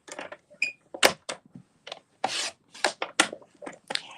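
Cardstock is cut to size for a holiday pop-out fun fold card, a run of close, dry rasping strokes and short scrapes in a quick uneven rhythm, with no voices.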